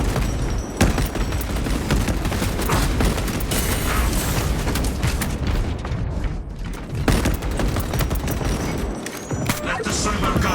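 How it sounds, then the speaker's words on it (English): A servo gun fires in dense bursts in Warhammer 40k Space Marine 2, loud rapid gunfire and booms layered with battle noise, briefly dropping away in a couple of short gaps. "Let the servo gun do its job."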